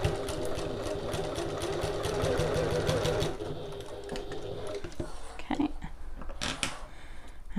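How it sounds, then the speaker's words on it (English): A sewing machine bastes along the edges of pleated fabric for a passport folio, running in a steady, rapid mechanical whir for about three seconds, then slowing into sparser individual stitches. "baste along these edges to keep these pleats folded up nicely"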